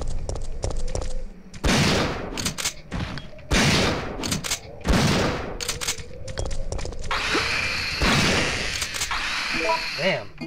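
Gunfire rings out in the original Resident Evil 3 on hard mode: several loud, sharp bursts of shots with thuds in between, fired in quick succession against attackers.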